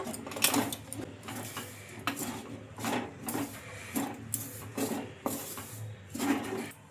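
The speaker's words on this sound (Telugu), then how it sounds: "ఇంకా ఈ పిండి వేసుకొని బాగా కలుపుకోవాలి 1 నిమిషం పాటు" Flour is stirred into boiling water in a pan for rumali paratha dough, giving a rhythmic run of scraping, rubbing strokes about once a second, close and fairly quiet.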